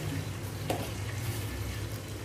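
Cumin seeds sizzling in hot oil for a mutton dish, a soft steady crackle and hiss that stays quiet and close, with one brief sharp clink partway through.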